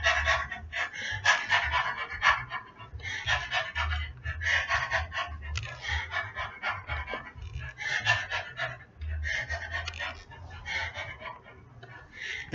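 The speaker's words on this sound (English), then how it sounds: "Now I'll go back to the rapid breathing." Rapid, forceful rhythmic breathing during a meditative training exercise, quick panting bursts repeating steadily and close to the listener with no speech over it.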